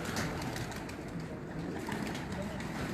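Pigeons cooing in a pigeon loft among breeders, a steady murmur of soft coos blending into a continuous, fairly loud flock hum with faint background noise.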